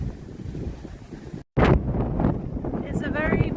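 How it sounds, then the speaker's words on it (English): Strong wind at a lookout point near Loch Ness, Scotland, buffets the microphone in a constant roar, cut by a brief dropout, with faint voices underneath. "It's very, very windy"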